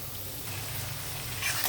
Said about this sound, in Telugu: ఉల్లిపాయలు కొంచెం వేగనిద్దామండి